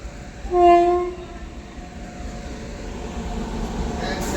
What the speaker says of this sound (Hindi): अब आ गई सामने छत्तीसगढ़ एक्सप्रेस, कोरबा अमृतसर छत्तीसगढ़ एक्सप्रेस, छाता स्टेशन पे आती हुई